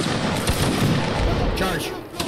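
Musket volley fire from a line-battle regiment in the Napoleonic Wars video game, a dense continuous crackle of many shots rolling together over about two seconds, loud and reverberant with background battle noise.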